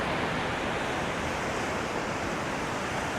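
Ocean waves break on the beach at Nags Head, North Carolina, a steady, loud, broadband wash of surf with no pauses, heard close and alone without any talk.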